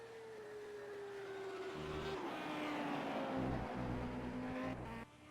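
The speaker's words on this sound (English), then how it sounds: "You can just hear the engine just roar into life as well." An Audi R8 race car engine roars in the Simraceway racing game, a loud sustained drone with pitch shifting through gear changes and tyres squealing, cutting off abruptly near the end with no talking.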